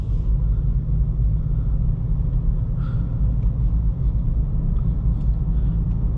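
A 2023 Acura Integra A-Spec's four-cylinder engine heard from inside the cabin as a smooth, steady low hum and rumble, continuous and fairly quiet, with no one talking.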